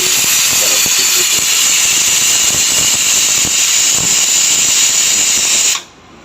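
A pressure cooker whistle blowing steadily while chicken cooks on a stove, a loud continuous shrill hiss held for several seconds before cutting off abruptly near the end.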